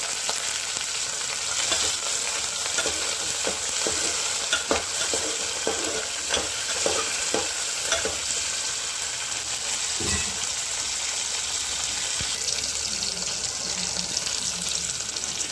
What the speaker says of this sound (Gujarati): જોઈ શકો છો આપણે ટમાટર ને લીમડો સરસ રીતે તતળાઈ રહ્યું છે